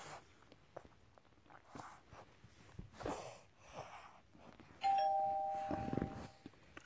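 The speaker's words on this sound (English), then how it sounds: "doorbell ringing" Doorbell chiming once clearly after a stretch of faint rustling and shuffling room sounds, a loud tonal ring that sustains briefly before fading.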